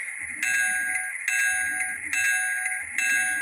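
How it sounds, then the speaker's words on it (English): Repeated clanging of a GP38-2 diesel locomotive bell from a model train DCC sound decoder, four bright metallic strikes in steady rhythm with a low mechanical rumble between them, loud and close. "So that is a Jeep 38 bell."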